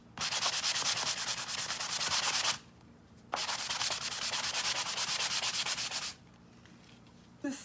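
A sanding sponge rubs over a wooden Easter bunny craft in close, loud, rhythmic strokes. Two long scrubbing passes are separated by short pauses.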